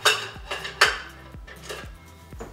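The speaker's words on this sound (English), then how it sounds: "take my little spatula that has curved edges and get all the tomato juice and all those little bits of tomatoes" A small curved-edge spatula scrapes tomato bits and juice out of a container in several close, scratchy strokes, each ending in a soft knock, with no talking.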